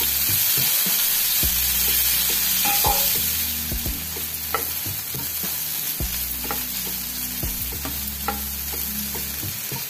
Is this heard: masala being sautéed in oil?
yes